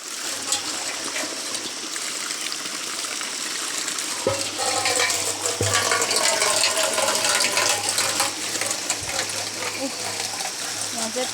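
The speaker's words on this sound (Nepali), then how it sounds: "यहाँ चाहिँ पानी भरेको यस्तो छ धारा चाहिँ" An outdoor tap gushes as water fills a container, a continuous splashing stream that grows fuller and busier partway through. A few faint voices sit under the running water.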